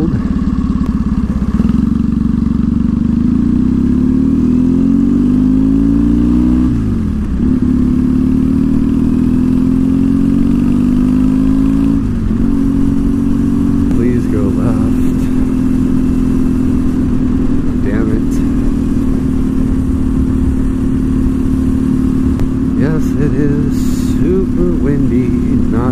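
Triumph Rocket 3 motorcycle engine running steadily with a deep, loud idle-to-cruise rumble that rises and falls in pitch as it revs, close and continuous, with people talking over it.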